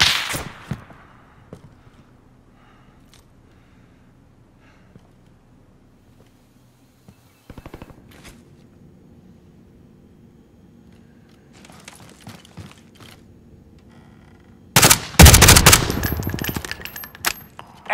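Call of Duty gunfire: a few faint, scattered shots early on, then a loud, rapid burst of automatic fire near the end, with quiet game ambience between.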